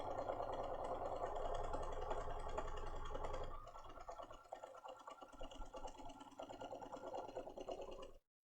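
A sewing machine stitches paper-pieced fabric for a quilt petal, a steady close whirring run that shifts to a rougher rattling stitch partway through before stopping, with no voices.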